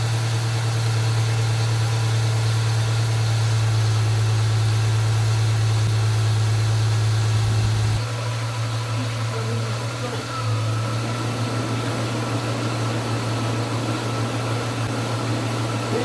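Engine of a 1996 Ford Mustang idling steadily up close with a strong low hum, then the A/C compressor engages midway, shifting the tone and adding a rougher, busier layer; a person speaks briefly.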